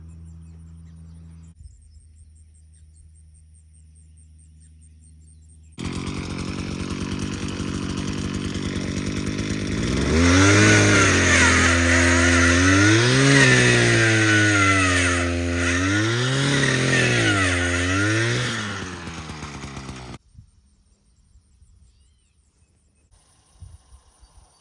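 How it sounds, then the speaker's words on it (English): A small gas-engine power auger starts up and roars steadily, revving and bogging in repeated surges as it drills post holes into the ground, then cuts off. "I gotta drill out some holes using the handy dandy auger and get these posts set."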